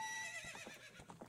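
Epona, the horse in the Zelda: Ocarina of Time video game, gives a bright, whinnying neigh with a falling pitch, followed by a few rhythmic clip-clop hoofbeats close up.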